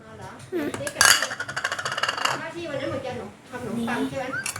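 Metal utensils clink and scrape against a small pan in several quick knocks while people talk over it.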